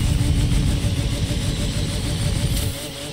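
A car engine in The Crew 2 racing game growls steadily at high revs, loud and close, with a low droning vibration that eases off slightly toward the end, with no voices.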